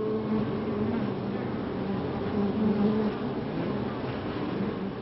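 Honeybees in heavy flight traffic around beehives, a dense, steady buzzing drone of many wings that fills the whole stretch with no pauses.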